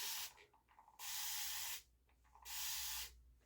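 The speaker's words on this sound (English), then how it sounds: "I'm gonna start by spritzing my hair with" A spray bottle spritzes water onto braided hair in two long hissing bursts, each lasting under a second, close and crisp, with quiet pauses between.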